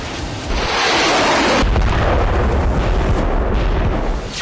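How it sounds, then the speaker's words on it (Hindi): A bomb dropped by a Russian Sukhoi Su-34 jet explodes in Kharkiv: a loud, heavy blast swells into a long, deep rumbling roar that fades slowly. "रूसी जेट से इस बम को गिराने के बाद जोरदार धमाका हुआ।"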